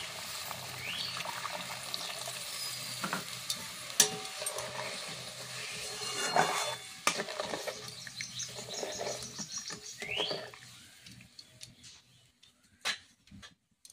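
Mustard and poppy seed sauce for pabda fish, thinned with water and seasoned with salt and a little sugar, boils in a pan with a soft, steady bubbling hiss while birds chirp in the background.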